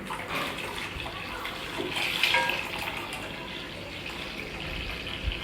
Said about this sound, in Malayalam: തേങ്ങാപ്പാലാണ് ഒഴിക്കാൻ പോവാണ്.